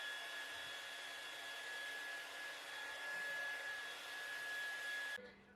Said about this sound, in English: right now, what I'm going to do is actually blow dry